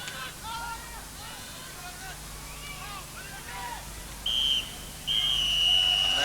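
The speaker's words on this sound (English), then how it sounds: "there's the half-time whistle" A referee's sustained, steady whistle blows at half-time during a 1988/89 Norwich City v Charlton Athletic football match, sounding in two blasts over crowd noise and a commentator's voice.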